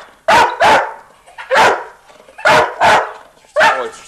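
A dog barks loudly and close by in a domestic setting, giving about six sharp barks in loose pairs with short pauses between them.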